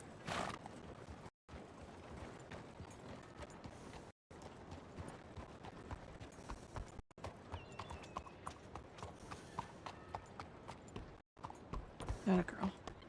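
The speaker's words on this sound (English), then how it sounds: "That is an awful lot of horses." Horses in the western roleplay game WildRP, many hooves clip-clopping in a steady rhythm with a whinny near the end, fairly quiet, with a few short dropouts and a voice talking briefly.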